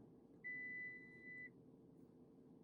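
A Lexus NX blind spot monitor tone: a single steady electronic beep holding for about a second, clear and close over a low cabin hum.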